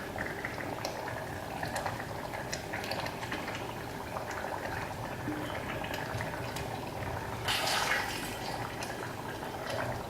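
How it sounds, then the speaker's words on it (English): Malaysian Nyonya tamarind fish curry simmers in a pot, giving a steady, close bubbling and popping that runs throughout. It swells briefly louder near the end, and no one speaks. "Simmering nicely."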